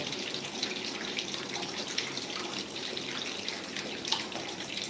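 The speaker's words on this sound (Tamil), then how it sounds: "இது நம்ம குழாலேருந்து தண்ணி எடுத்துருக்கோம்" Water from a household tap runs steadily into an idli and dosa batter grinder machine during a home repair, a constant close splashing hiss that lasts the whole time with no speech.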